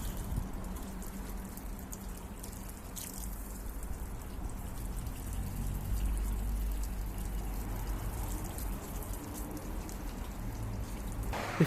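A steady stream of water rinses the door jambs of a Mercedes E220d, splashing and pattering continuously against the surface, an even hiss with no talking.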